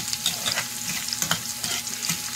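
Garlic sizzling in hot oil in a pan while being stirred, a bright crackling fry with scraping strokes of a spatula, close and steady.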